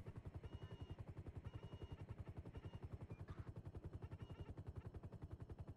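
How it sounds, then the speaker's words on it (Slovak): A helicopter flies overhead in the game GTA V, its rotor thumping in a steady, fast rhythm throughout, continuous and moderately loud, with no voices. "nad hlavou mu lieta helikoptéra"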